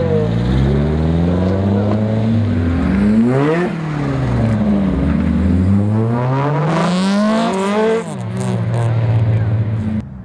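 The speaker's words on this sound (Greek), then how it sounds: "αγωνιστικά αυτοκίνητα με όλα τα επίπεδα ασφαλείας και οι οδηγοί τους με φόρμες, κράνη" Race cars on the Megara circuit roar past one after another, engines revving and sweeping up and down in pitch as they approach and recede, loud and continuous.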